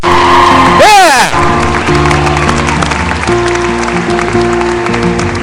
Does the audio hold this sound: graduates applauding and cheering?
yes